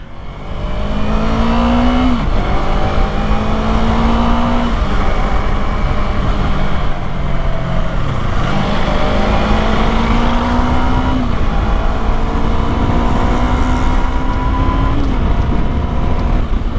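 A Yamaha MT-15 V2 motorcycle accelerates hard through several gears, its engine note climbing in repeated rising sweeps with brief dips at each shift, loud and close throughout without speech.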